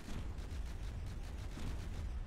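Naval guns firing in a Newbee Rumble battle game, a dense, continuous rumble of booming gunfire with repeated low thuds rolling steadily throughout, loud and unbroken with no talking.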